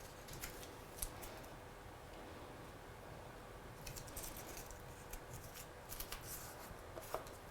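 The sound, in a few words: cutting out a stamped paper heart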